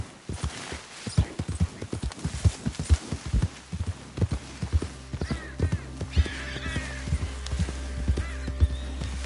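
A horse gallops in a PS4 video game: fast, rhythmic clip-clop hoofbeats run throughout, close and clear, with a whinny rising over them partway through.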